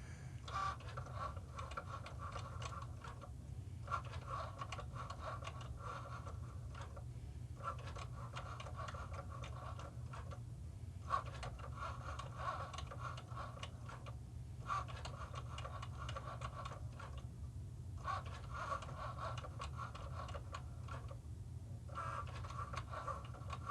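A Cricut Joy cutting machine runs in real time, giving a steady low motorized whir with a rhythmic pattern of brief pauses every few seconds, near and moderately quiet.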